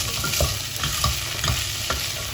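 Vegetables sizzle as they fry in a pot for salmon soup, with a steady hiss and repeated scraping stirs of a utensil at an uneven rhythm, close up and without talk.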